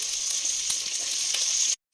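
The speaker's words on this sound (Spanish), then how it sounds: "Esto lo pongo a sofreír ahí en bajito con un poquito de aceite" Food sizzles steadily in a pan with a little oil over low heat, a bright continuous hiss with a few faint stirring ticks before it cuts off abruptly.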